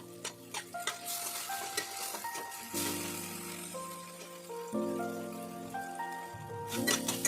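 Ground spice paste for a fish and bori curry sautéing in a pan, a continuous sizzle with tonal hiss and frequent spoon scrapes and taps against the pan.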